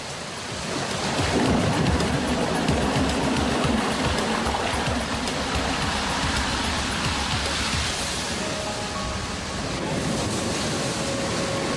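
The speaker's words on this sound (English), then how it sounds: "Ten massive water pumps dotted around the system keep the water pressure up and regulate its flow." Water surges and rushes continuously around a log flume ride, kept flowing by large pumps, a dense, loud splashing wash throughout with a faint tonal hum toward the end.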